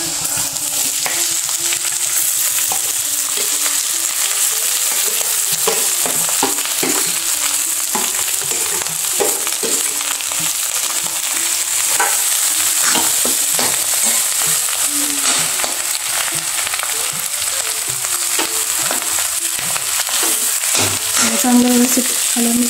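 Potatoes with red chili and spices fry steadily in a pan, a continuous close sizzle broken by repeated scraping and stirring strokes, with occasional brief speech.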